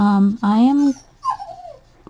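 A dog whimpers close by in two short, high whining cries, followed by a softer, falling whine.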